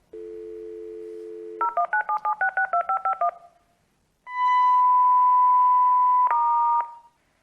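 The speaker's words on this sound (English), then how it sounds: "Your alarm telephone is dialing for assistance." An alarm telephone lifeline unit gives a steady dial tone, then rapid DTMF keypad tones dialed in quick succession, followed after a pause by a long, loud continuous tone that shifts pitch near the end.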